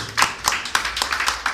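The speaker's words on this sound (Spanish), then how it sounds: "Nosotros le damos un aplauso a Adón por eso." Church congregation clapping during a Spanish-language Sabbath service, a handful of distinct, fairly close claps in an uneven rhythm over a faint murmur of the room.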